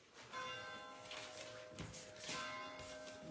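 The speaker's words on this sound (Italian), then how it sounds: "Sentiamo anche le campane che suonano." Church bells ringing in a small Italian village, faint and distant, with sustained overlapping tones and a couple of stronger strikes, heard alone without voices.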